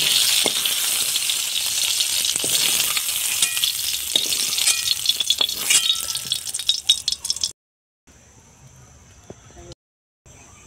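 Nigella seeds and radhuni spices sizzle in hot oil in a pan, a bright, crackling fry with scattered clinks of a spoon, which suddenly cuts to near-silence with only a faint hiss.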